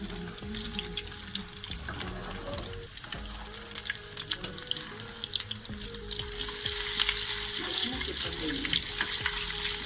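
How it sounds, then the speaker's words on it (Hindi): Egg-coated potato bread rolls fry in oil, a close, continuous sizzle with occasional clatter that grows louder and denser toward the end. "एक तरफ से फ्राई हो जाए तो आप दूसरी तरफ से करें"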